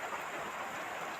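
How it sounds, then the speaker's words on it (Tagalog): Heavy rain pours onto a truck on a wet road in Tarlac, a dense, steady hiss filling the cab with no talk over it. "Lakas ng ulan, oh."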